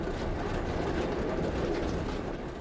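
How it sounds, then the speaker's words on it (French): A Brussels tram motor car runs along a track that is being fully renewed on a reserved avenue route, giving a steady, loud rolling rumble with a faint rhythmic wheel clatter and no talking. "Notre motrice emprunte une voie en cours de renouvellement complet le long du site propre de l'avenue Bach."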